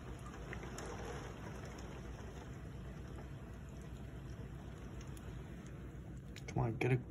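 Torrential night rain driven by wind in Norwich, CT, a steady dense roar of downpour outside a window, with a brief louder burst near the end; a person talks over it.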